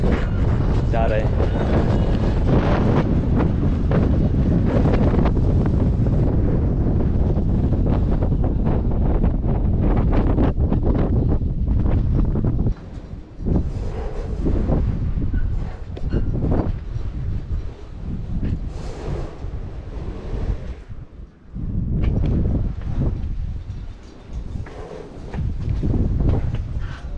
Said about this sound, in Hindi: बड़ी तेज से हवा चल रही है